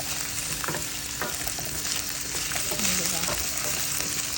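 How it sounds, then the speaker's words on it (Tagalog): Onions, garlic and ginger fry in a pan, with a close, steady sizzle broken by clattering stirs and scrapes of a utensil and no talk. "saka ko pa-fry ang mga onions at saka garlic. Tapos, ginger."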